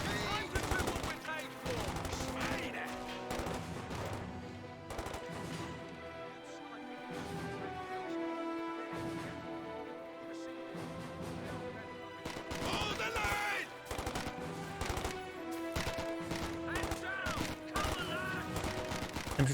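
Sustained bursts of MG42 machine gun fire in Company of Heroes 2 battle, rapid crackling volleys running almost continuously with heavier clusters, mixed with other battlefield gunfire and a commentator talking over it.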